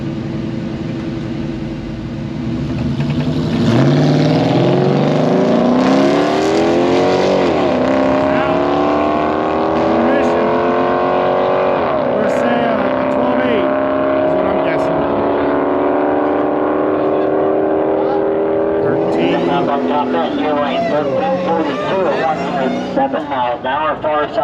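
Two cars drag racing, a 2006 Chrysler 300 SRT8 and a 2020 Dodge Charger, roar off the line with loud rising engine revs and gear shifts, holding a sustained howl as they run down the strip, with a commentator talking over the noise.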